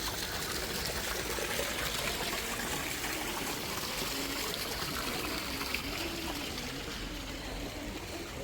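Water flows steadily in a valley in the Swiss Alps, a continuous soft trickling and rushing that stays even throughout, fairly faint and with no talk.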